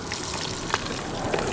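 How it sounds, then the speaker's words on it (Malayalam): Chopped shallots dropped into hot coconut oil for a fish curry, giving a continuous close sizzle with a brief crackling pop. "നമ്മൾ ചെറിയുള്ളി കട്ട് ചെയ്ത് വെച്ച് എടുത്തിട്ടുണ്ട്, ഇതിലേക്ക് ഇടാം."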